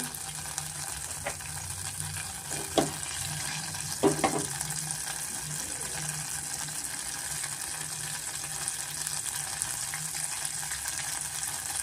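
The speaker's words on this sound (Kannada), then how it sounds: "ಎಣ್ಣೆ ಕಾದಿದೆ ಇವಾಗ ನಾವು ಇದಕ್ಕೆ ಸಾಸಿವೆ ಹಾಕೋಣ ಕರಿಬೇವು" A steady sizzle and crackle rises from mustard seeds and curry leaves dropped into hot oil with a little ghee for rava pongal, with a few sharper pops and clinks over a constant frying hiss, and no voices.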